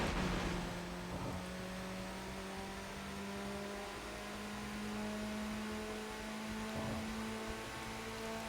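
Sustained whoosh of a car's nitrous boost in Tokyo Xtreme Racer, a steady engine drone with a rising whine running under it throughout, no speech.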